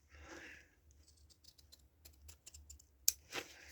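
Freshly sharpened scissors snip cleanly through material in a quiet room, a few short crisp cuts and light clicks of the blades, faint and close, with soft handling noise between them.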